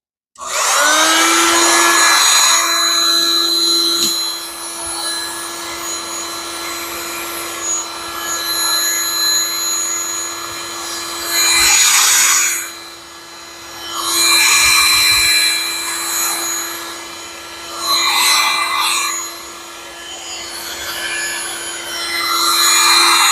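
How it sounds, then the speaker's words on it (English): A heat gun blows with a steady, fairly loud whine while fuel line is fitted on a Yamaha IT175 motorcycle, its airflow surging and dipping several times as it is moved around. "Heat gun."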